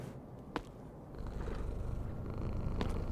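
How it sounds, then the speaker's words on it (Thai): A pixel-art cat in a video game purrs in a soft, continuous low rumble that swells slightly in the second half, with a couple of brief clicks over a steady game background. "มันเป็นแมวที่ดีน่ารักนะเนี่ย ถึงจะเป็นแมวที่ทรงพิกเซล"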